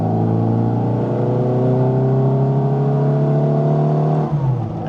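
Classic Mini with a Weber carburettor cruising in third gear at about 60 km/h, its engine giving a steady, loud, close droning hum with a pulsing induction note and exhaust tone, with no talk over it.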